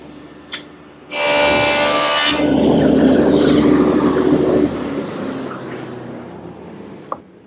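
Power tool cutting a dado across a wooden side panel with a sacrificial strip, for a stepback cupboard: a loud, steady cutting roar lasting a few seconds, starting abruptly after a short click and tapering off into a lower whir.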